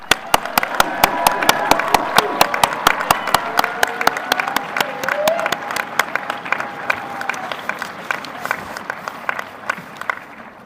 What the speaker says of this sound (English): let's give our December 2025 graduates another round of applause